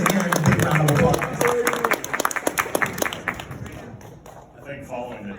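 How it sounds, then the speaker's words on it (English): Guests at a wedding reception applaud during a toast, scattered individual claps and a smaller group clapping that thins out and fades, with voices talking and murmuring over it near the end. "Let's give him a big round of applause."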